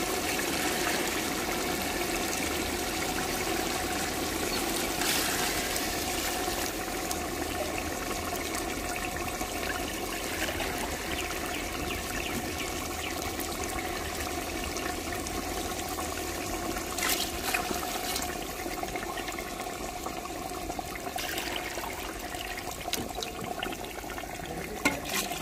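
Water is poured into a cooking pot during outdoor desi-style cooking for a large feast, a continuous splashing, trickling flow lasting about 25 seconds with steady loudness and a few brighter splashes along the way.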